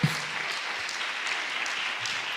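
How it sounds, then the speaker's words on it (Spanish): Congregation applauding during a church service, a steady dense wash of clapping that holds evenly throughout with no voices over it. "Fuerte el aplauso a Jesús."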